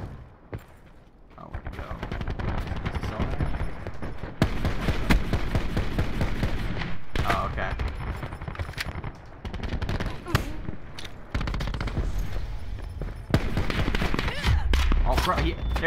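Call of Duty Black Ops 4 gunfire, dense bursts of automatic fire and shots running almost continuously at fairly loud level, with a player talking over it.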